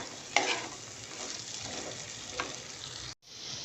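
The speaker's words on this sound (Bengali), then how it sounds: "এগুলোকে একটু তেলের মধ্যে ভালো করে ভাজা ভাজা করে নেব" Carrot and potato pieces frying in oil in a pan, a steady moderate sizzle with a couple of sharp stirring clicks, broken by a short silent gap near the end before the sizzle resumes.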